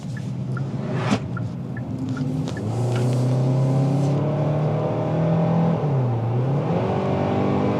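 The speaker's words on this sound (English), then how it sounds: "As far as the noise, you can hear the engine," Engine drone and wind noise heard from inside a 2025 Hyundai Tucson XRT AWD while driving, a steady low hum that swells as the engine revs, with a few faint clicks early on.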